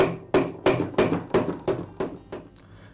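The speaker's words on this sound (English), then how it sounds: "again strike the motor shaft with a mallet" A mallet strikes the shaft of a Rigid air compressor motor while it is being disassembled, giving a series of about seven loud, sharp metallic blows at a steady rhythm, each ringing briefly before the next.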